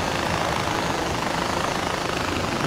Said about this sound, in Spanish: Y ahora nos viene como Dios este mini helicóptero